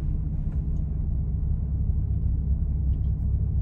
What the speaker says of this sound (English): My car sounds weird.